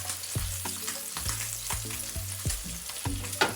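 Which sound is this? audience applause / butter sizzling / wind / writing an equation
butter sizzling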